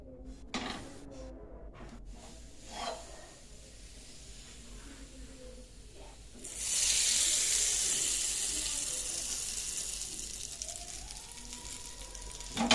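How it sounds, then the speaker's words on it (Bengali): Hot oil poured over a finished homemade pickle, bursting into a loud, steady sizzle that hisses and crackles for several seconds after quieter kitchen sounds. "এখন আমি কতটা গরম তেল ওপর দিয়ে দেবো।"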